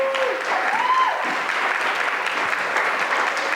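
People at a game jam ceremony give steady, dense applause for the winners, a continuous wash of clapping from a room full of hands with no break.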